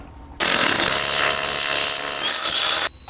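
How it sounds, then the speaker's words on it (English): A cordless rotary hammer of the kind carried on electricians' trucks runs in one steady, loud, continuous burst of about two and a half seconds, starting abruptly and cutting off near the end, with no talking. "every truck gets a cordless rotary hammer"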